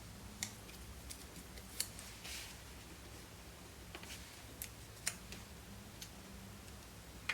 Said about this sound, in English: which is why I am cutting these